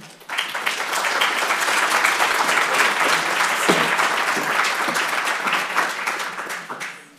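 A conference audience at an energy and environment center's annual meeting bursts into sustained applause welcoming a speaker to the stage, a full, steady wash of clapping that rises quickly and fades out at the end.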